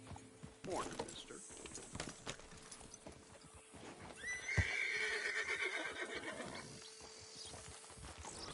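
A horse neighs and hooves clip-clop in Red Dead Redemption 2, with a loud whinny mid-way over game sounds and occasional talking.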